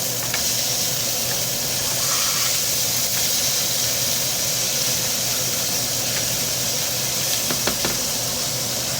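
Smash burgers sizzling and hissing on a hot griddle as they are flipped, a steady loud frying hiss with a few faint scraping clicks of the spatula, no talking.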